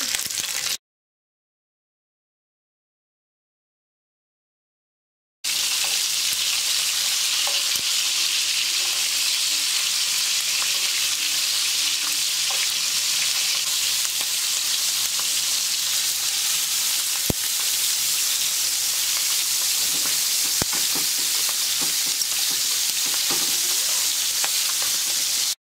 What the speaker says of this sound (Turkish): Ben birazcık yanına şöyle biber ve domates kızartacağım.